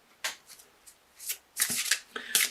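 A deck of cards is shuffled in short bursts, with quick riffling and flicking sounds close by, growing busier and louder toward the end.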